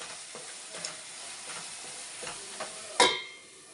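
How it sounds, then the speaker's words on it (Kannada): Chopped tomato fries in oil in a pan for a potato curry, a low continuous sizzle with light stirring taps and one sharp utensil knock near the end, with no voices. "ಟೊಮೊಟೊ ಸ್ವಲ್ಪ ಫ್ರೈ ಆಗಬೇಕು"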